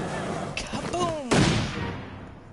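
A single loud gunshot goes off in the survival game The Long Dark, a sharp close blast that rings out briefly after a faint voice-like sound.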